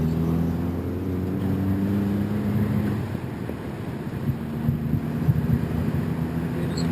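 A SAAB 9-3 Viggen drives along with its engine and exhaust droning from inside the cabin, a steady low hum whose pitch holds and then shifts as the car changes speed, mixed with road and wind rumble.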